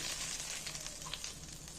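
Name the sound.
hot Kashmiri chili oil tempering poured into dal, sizzling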